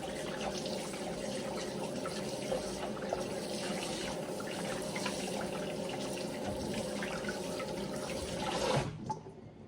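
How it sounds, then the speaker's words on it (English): Hands scrubbed with soap under a steadily running kitchen tap, water splashing continuously into the sink at close range for several seconds, then cutting off abruptly near the end; no talking. "So you want to get some good soap and scrub your hands for about 20 seconds"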